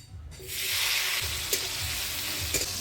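Chopped tomatoes dropped into hot oil with whole garam masala, dried red chillies and bay leaves burst into a loud, steady sizzle after a brief quiet start, with a couple of sharp clinks from a spoon or pan along the way.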